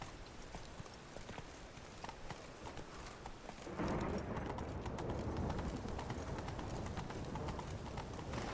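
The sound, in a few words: horse hooves galloping in video game The Witcher 3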